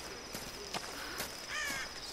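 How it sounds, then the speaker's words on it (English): Crows caw in the video game Tomb Raider: several harsh, scratchy calls in quick succession over a steady ambient game background. "Stupid crows."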